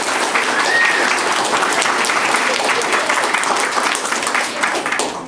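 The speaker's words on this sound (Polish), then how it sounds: "Wielkie brawa, proszę państwa." A large audience at a children's literary contest award ceremony in Olsztyn applauds loudly and continuously, a dense, steady wash of many hands clapping that holds for several seconds.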